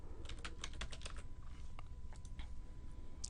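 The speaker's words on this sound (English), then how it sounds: "Okay, let's just type tutorial." Quiet typing on a computer keyboard: a quick run of soft, close key clicks, then a few scattered taps over a low steady hum.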